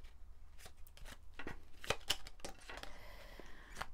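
Small oracle cards from Julia Saric's little blue-star oracle are shuffled by hand, giving a run of soft papery riffles and flicks in quiet surroundings, close and fairly faint, with no talking.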